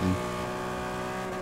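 A Ferrari engine in the racing game Forza 6 drones at a steady high pitch with rich harmonics, beginning with a brief louder burst, then holding a constant hum with no talking.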